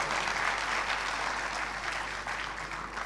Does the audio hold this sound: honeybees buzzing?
no